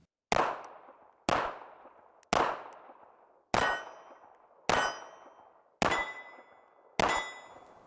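Seven sharp pistol shots ring out at even intervals, each striking a steel target with a bright metallic clang and a decaying ring, at an outdoor range where a 9mm and a .380 ACP are fired, with no talk.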